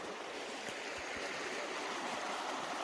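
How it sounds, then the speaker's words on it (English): A river flows nearby on open grazing land, its soft, steady rushing wash continuing evenly without pauses and with no voices over it. "lovely sounding river"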